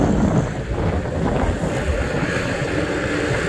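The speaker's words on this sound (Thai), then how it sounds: "อากาศเย็นๆลมหนาวๆครับผม" Cold winter wind blowing steadily across an outdoor site in Krasang district, a loud broadband rushing roar buffeting the microphone throughout with no speech.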